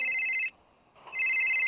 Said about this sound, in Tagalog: Sino na naman itong tumatawag na to?